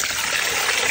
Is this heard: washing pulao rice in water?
yes